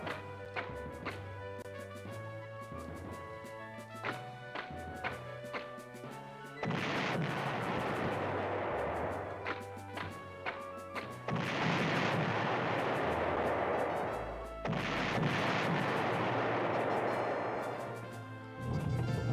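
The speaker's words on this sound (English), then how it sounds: "bombard them with artillery." Artillery bombardment in the PlayStation strategy game Panzer General, with three long roaring barrages of shellfire and explosions, each several seconds long, set against a droning musical background.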